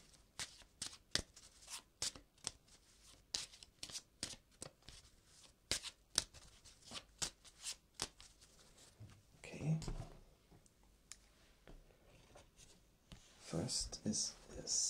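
Playing cards are handled up close during a quiet ASMR session, with soft flicks, taps and shuffling rustles arriving in irregular bursts. A low voice speaks softly between them.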